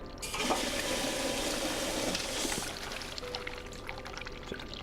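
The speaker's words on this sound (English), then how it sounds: "Flush the toilet." A toilet flushes in the video game The Cat Lady, a rushing pour of water that gurgles and refills steadily for several seconds.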